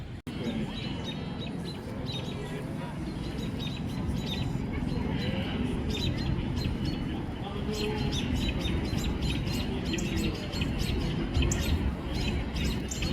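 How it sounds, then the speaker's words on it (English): Agitated birds chirp and tweet repeatedly outdoors, sharp high calls scattered over a steady low background rumble, with no one speaking. "And some very, very angry birds."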